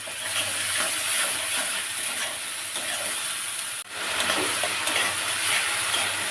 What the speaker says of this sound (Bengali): এই যে মশলা খুব সুন্দর করে ভেজে নিয়েছি।